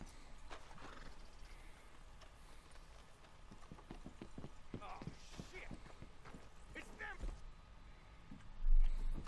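Horses' hooves clip-clop steadily on hard ground in Red Dead Redemption 2, with irregular clattering steps, a brief whinny and creaking tack, while game characters talk over the hoofbeats.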